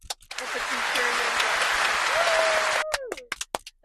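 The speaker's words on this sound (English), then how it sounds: "Let's put some cheering." Loud applause and cheering from a crowd, a dense sustained wash of clapping lasting a few seconds before breaking off into scattered claps, with tonal whoops and a voice rising over it.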